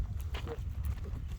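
A young horse's hooves clop on the ground in a few soft, quiet steps, close by and brief.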